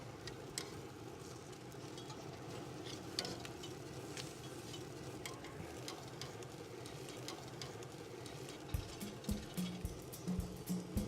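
Tri-tip on a Memphis wood fire grill sizzling steadily as it is turned over, a continuous close frying hiss with a few soft clanks and scrapes near the end.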